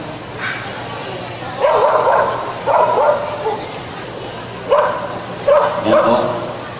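A trained bomb-search dog used in ports and terminals barks in several short, loud bursts spaced through the clip, with some whimpering yips, close by over steady background noise.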